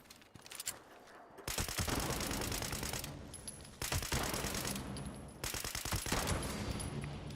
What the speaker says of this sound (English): It's not very good shooting, but anyway.